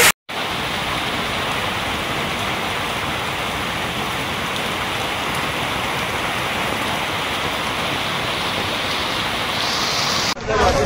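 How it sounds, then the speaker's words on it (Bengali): Heavy hail pounding down during a night storm in Sylhet, Bangladesh, a dense, loud, unbroken roar of hailstones hitting surfaces that runs continuously from start to end. "প্রচন্ড শিলাবৃষ্টি হচ্ছে, পরিস্থিতি দেখুন আপনারা"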